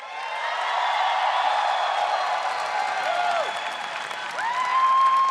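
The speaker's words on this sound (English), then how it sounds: "I want to ask you guys to cheer for a miracle." A large arena crowd at a League of Legends World Championship group-stage match claps and cheers steadily, with a sustained roar and a few whoops, swelling again near the end.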